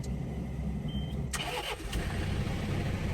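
Tractor engine cranking and catching, then settling into a steady mid-pitched idle, close and continuous with no talk.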